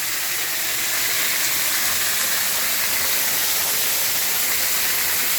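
A Kentucky waterfall pours steadily from nearby, a dense broadband rush and hiss that holds constant throughout with no talk.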